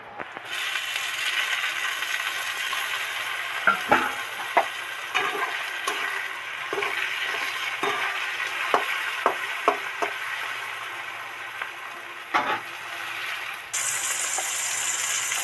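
Steady oily sizzling of chopped tomato frying in a pan, broken by scattered clicks and scrapes of a spoon stirring against the metal.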